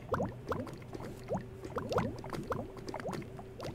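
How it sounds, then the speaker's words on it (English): In Minecraft, lava drips in a dripstone farm: soft bubbling and popping drips repeat in an uneven rhythm, faint and liquid-sounding, with a low steady hum beneath and no talking. "That is the sound of a mini super smelter and a dripstone, lava dripstone farm"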